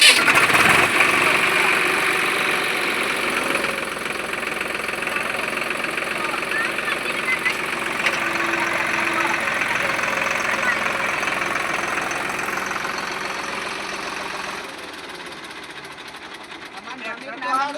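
A tractor engine cranks and turns over into a steady mid-pitched running rumble with a rapid knocking pulse that fades toward the end, while people talk nearby.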